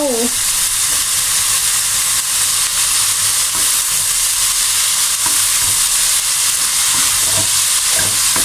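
Intense, constant hiss of stir-frying a small amount in a small wok over high heat, with occasional scrapes and clanks of a spatula against metal, close and loud.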